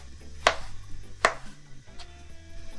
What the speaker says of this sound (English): dice my breadfruit.